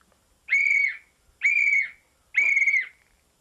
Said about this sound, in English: Simply get out your whistle and blow 3 times every minute until aid comes.